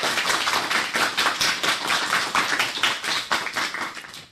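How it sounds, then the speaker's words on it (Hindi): An audience claps for child performers at a school cultural program, thick continuous applause that holds loud and even throughout before tailing off at the very end. "तालियों की गड़गड़ाहट से इन नन्हे कलाकारों के हौसले को और बुलंदी दें।"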